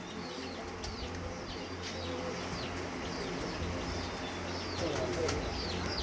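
A pigeon flapping its wings close by, several short bursts of wingbeats over a constant outdoor murmur, with faint bird chirps and cooing in the background.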